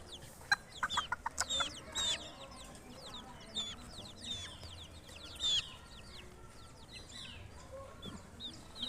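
Brahma, Wyandotte and Japanese bantam chickens clucking and calling in a farmyard, a steady chatter of clucks with higher chirps and squawks, some near and others further off, over a dense background of bird noise.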